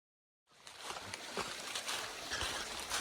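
Harvey Falls, a small waterfall on a small stream along the Foothills Trail, rushes in a steady, moderately faint wash that starts abruptly after a brief silence and runs on alone.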